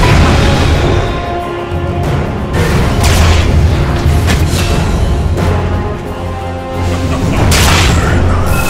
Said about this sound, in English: Radiant's bottom barracks is under attack.